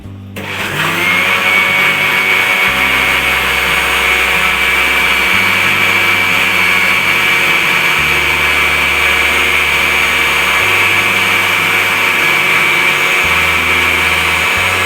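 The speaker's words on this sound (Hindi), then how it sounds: "इसको हमने ब्लेंडर में डालना है और करना है ब्लेंड 1 मिनट सिर्फ।" An electric blender whirs loudly and steadily while blending plum pulp for sharbat, a close, constant high motor whine running for about fifteen seconds.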